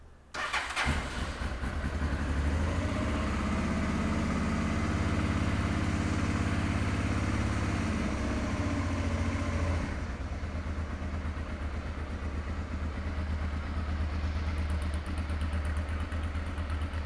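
A 1989 Honda Transalp motorcycle engine cranks and fires, then settles into a steady, rumbling idle, loud and close throughout with no voices.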